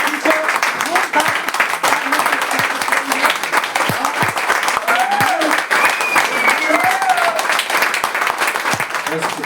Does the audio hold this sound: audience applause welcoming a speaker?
yes